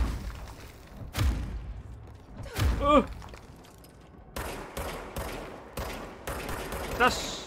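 Gunfire in the video game Control, a few sharp bursts and rattling shots among thuds and mechanical clanks, with someone talking over parts of it.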